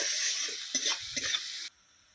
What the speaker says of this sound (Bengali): তাহলে পেঁয়াজটা তাড়াতাড়ি ভাজা হয়ে যাবে নুন আর হলুদ দিয়ে দিলে।